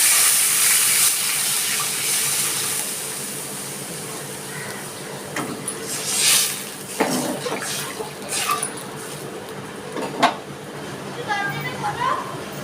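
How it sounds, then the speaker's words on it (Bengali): Water poured into a pan of fried potatoes, a brief splash and hiss against steady kitchen background, with a few clatters and voices nearby. "জল দিয়ে দিচ্ছি"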